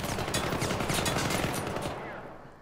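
An enemy blind fires around a corner in the game Syndicate, letting off rapid, loud bursts of gunfire for about two seconds before the sound fades out.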